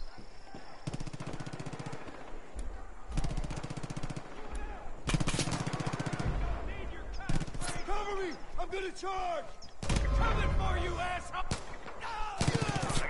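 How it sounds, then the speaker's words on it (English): Bursts of rapid gunfire in Far Cry 5 crack loudly in repeated volleys with short gaps, while people talk in between and over the shooting. "I like how you shot the civilian"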